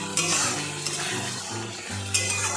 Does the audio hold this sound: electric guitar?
no